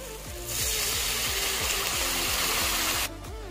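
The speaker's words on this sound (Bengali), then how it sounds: "এবার আমি পরিমাণ মতো জল দিয়ে দেবো।" Water poured into a pan of sizzling, fried spice paste while cooking Bengali fish curry (buwal macher kalia): a loud, steady rushing gush over the sizzle for about two and a half seconds, then stopping abruptly, with a low background hum throughout.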